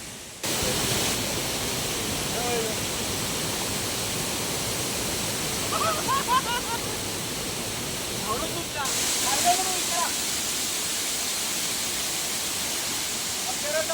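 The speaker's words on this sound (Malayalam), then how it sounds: "ചെറിയൊരു വെള്ളച്ചാട്ടം കാണാൻ വേണ്ടി പോവാണ്" Steady rushing hiss of falling water from a small forest cascade at Kakkadampoyil, with a few faint voices and birdlike chirps drifting in over it.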